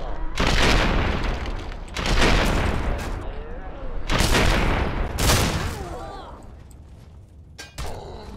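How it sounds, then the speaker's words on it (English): Combat shotgun fired in the Fallout 3 video game, heavy booming blasts arriving in spaced bursts, loud and close, with game sound and faint voice mixed underneath. "combat shotgun"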